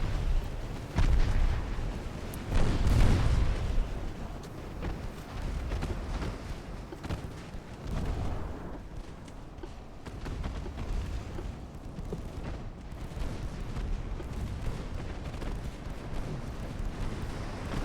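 Naval guns firing in the video game Ultimate Admiral Dreadnoughts, deep booming blasts rolling in over a low rumble, with heavier bursts early on and softer distant thuds later.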